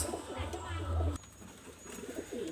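Pair of pigeons at a seller's loft cooing in low, throaty pulses that swell through the first second, then fade to softer murmurs, with faint background voices.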